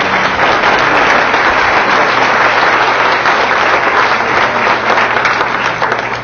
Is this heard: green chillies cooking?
no